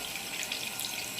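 Steady running water like a faucet filling a basin, as a sublimated mug is lowered into cold water; a soft, even wash of flow with no voices.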